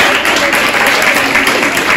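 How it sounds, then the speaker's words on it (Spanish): Dense audience applause at a children's reading event, loud and steady from start to finish with no voices breaking through. "Un aplauso."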